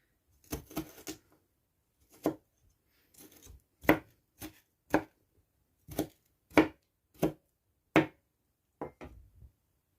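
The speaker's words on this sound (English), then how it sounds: "I cut the onions" A knife chops onions on a board in sharp, separate, close strokes, about a dozen irregular hits with short pauses between them and no talk.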